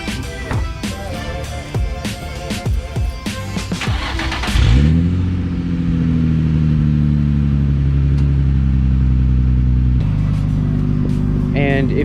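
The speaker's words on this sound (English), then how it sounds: "I would give you guys a cold start" Infiniti G35 with a muffler delete cold-starting after a loud stretch of talk and music, the engine catching with a sharp rev then settling into a loud, deep, throaty idle that continues steadily.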